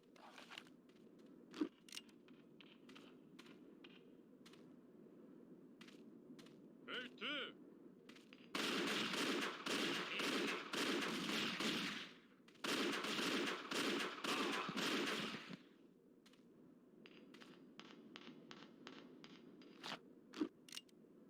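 Gunfire in the video game Indiana Jones and the Infernal Machine, heard as dense bursts of crackling shots in two sustained volleys amid scattered sharp clicks, under faint background talk.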